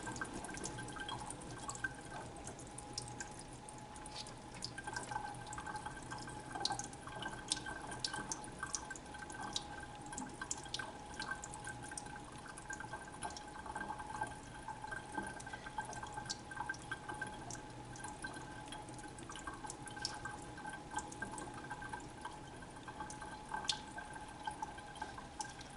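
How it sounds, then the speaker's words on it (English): Water draining from a seed ball mixture as it is shaken, a faint steady trickle with soft scattered drips, quiet and distant-sounding, without speech. "And then we're going to let it drain. And just shake it around until it drains."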